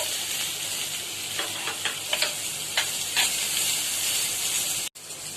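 Onions sautéing in a pan for salna give a continuous close sizzle, with a few sharp crackles and stirring scrapes over the hiss before a brief break near the end.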